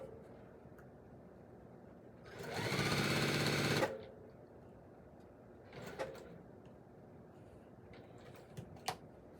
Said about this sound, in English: We're just going to sew off that, and then right sides together.